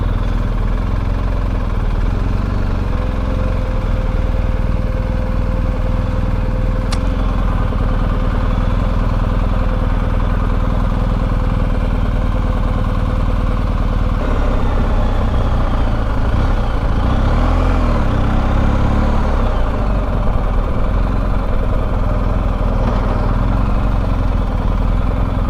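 BMW R1250GS motorcycle ridden along the beach roads of Southern California near Laguna Beach, with a steady engine drone and road rumble running throughout, shifting tone partway through, with no talking.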